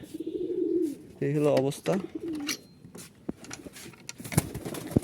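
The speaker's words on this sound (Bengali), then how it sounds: "এই যে কবুতরটা এই যে দিলাম, এটা মাদি কবুতর।" A female pigeon coos in short low bursts, close by, interleaved with a person speaking and some handling noise.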